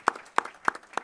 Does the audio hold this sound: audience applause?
yes